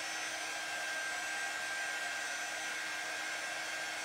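A hair dryer blows a steady, loud, unbroken whine and rush of air while drying paint on a gnome figure, with no voices.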